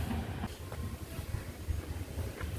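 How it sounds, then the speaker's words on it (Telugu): A toy train running on rails around a hilltop park at a Vizag beach spot: a low rumbling roll with soft rhythmic clacks, moderately close and steady, with no voices. "కొండ మీద ట్రైన్ వెళ్తుంది ఈ పట్టాల మీద."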